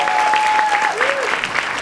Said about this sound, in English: round of applause for the amazing writing staff that showed up and Rex for acting.